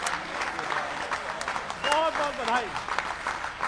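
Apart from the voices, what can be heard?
audience applause at poetry gathering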